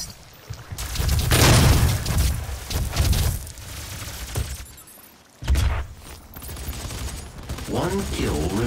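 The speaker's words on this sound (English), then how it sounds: "Press the button and throw a grenade." Explosions and gunfire in the Doom beta multiplayer match, a grenade blast booming loud and near amid rapid shots and crashing impacts, with a brief lull before another burst.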